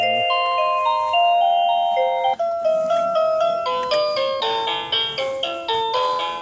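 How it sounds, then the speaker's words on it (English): Doorbell chimes ring out one after another, bright electronic bell tones stacking into a busy, overlapping run of notes with no talk over them. "you can press every button to hear the doorbell sound"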